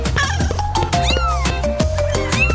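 Several kittens meow repeatedly and close by, overlapping high rising and falling mews in quick succession with no talking.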